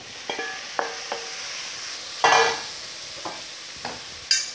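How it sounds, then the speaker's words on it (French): Onions, bay leaves and beans are stirred in a frying pan: a few distinct scraping strokes and clacks of a utensil against the pan over a faint sizzle, close and clear, with no voices. "je vais mettre mes petits oignons et mes feuilles de laurier à rissoler"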